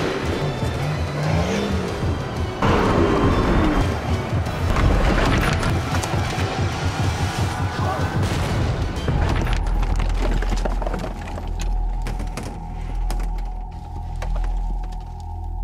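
A 4WD tackles a big rock step and rolls onto its side: loud revving engine with crunching, scraping bursts and knocks, then the commotion settles into a steady low engine hum.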